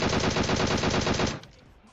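A rapid machine-gun burst in PUBG Mobile rattles out evenly and loudly for over a second, then cuts off, leaving a faint tail.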